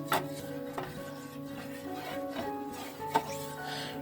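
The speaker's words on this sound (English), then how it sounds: "Give that a good stir." A spoon stirring a candle-making mixture tinted cream brown in a container, soft faint scrapes and a few light clinks against a quiet, tonal background.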